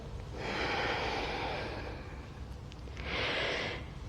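Two long, breathy airflows come close to the microphone during a yoga sun salutation with blocks. The first breath is extended and the second is shorter after a brief pause, with no speech between them.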